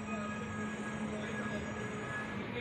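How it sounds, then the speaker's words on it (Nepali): A metro train arriving at a station makes a steady, even rumble with a faint high metallic whine from the wheels, heard continuously at a moderate distance with no talking. "अब अहिले चाहिँ ट्रेन आएको जस्तो लाग्यो"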